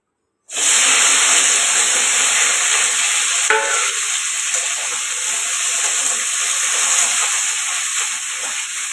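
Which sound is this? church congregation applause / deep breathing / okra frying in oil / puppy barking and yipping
okra frying in oil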